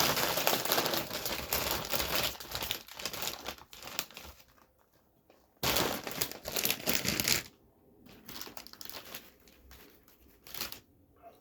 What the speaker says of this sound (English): let's open up the original bag of nacho cheese Doritos and pull the chip out